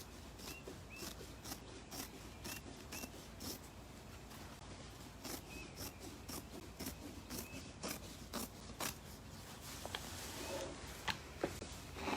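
Scissors cut through patterned upholstery fabric for an Eastlake chair seat in a rapid, even series of crisp snips and rasps. The cutting is close and quiet, with no talking.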